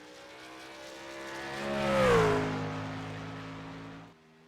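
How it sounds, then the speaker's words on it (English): A race truck in the iRacing sim at Watkins Glen roars past as its engine note climbs, briefly dips for an upshift, then falls on a downshift, swelling loud near the middle before cutting off sharply near the end. "Heard an upshift and a downshift right there."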